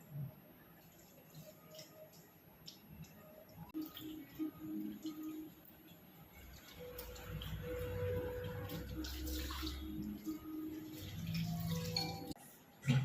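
Water pours and splashes over hair during a salon shampoo rinse at the back of the head, starting soft and building into a fuller, steadier gush in the second half.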